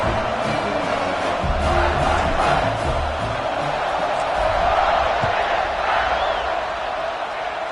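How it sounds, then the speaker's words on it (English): A stadium crowd buzzes after a touchdown in the video game College Football 26, a dense, steady roar of cheering and shouting that fills the whole stretch without letup. "this crowd is buzzing after that last score"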